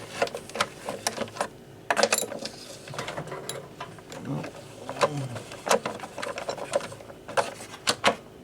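A hand tool clicks and ratchets in bursts while 10mm screws come out of a 2008 Kia Rio engine bay, with scattered metallic taps and quiet, intermittent talk.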